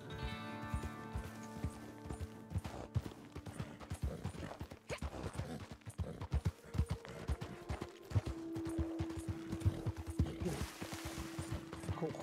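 Horse hooves clip-clopping in the video game Red Dead Redemption 2, a soft, uneven run of hoof steps with scattered knocks and a low tonal hum, fairly faint throughout.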